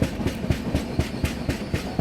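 An Awadh Express train hauled by a WAP-7 electric locomotive rolls past close by, its wheels beating out a steady, rapid clickety-clack rhythm of evenly spaced thumps with no voices.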